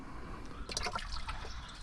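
Quarts of liquid are poured into a container at a service counter, a soft splashing gush that starts partway through over steady background hum, moderately close and fairly quiet.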